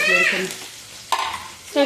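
Chana dal, urad dal and green chilies frying in tempering oil, a strong sizzle with scraping stirs in two or three bursts, close and loud, with a brief voice at the start.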